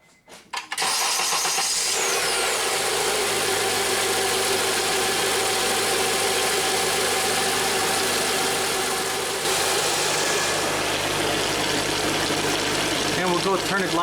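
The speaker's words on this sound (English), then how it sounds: "we'll just fire up the car, we'll let it idle" A 2003-2007 Honda Accord 2.4L engine cranks and fires up, then settles into a loud, steady idle heard close, with power steering fluid low after a pump replacement.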